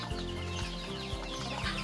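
Italian White Leghorn laying-hen chicks cheep softly in a group, faint high peeps over a low background hum with soft regular thumps.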